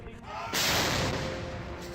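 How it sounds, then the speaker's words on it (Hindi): An indigenous ATAGS towed artillery gun fires a ceremonial Independence Day salute at the Red Fort, giving one loud, sudden boom about half a second in, followed by a broad, rumbling roar that slowly fades. "आज लाल किले पर स्वदेशी ATAGS तोप ने तिरंगे को सलामी दी"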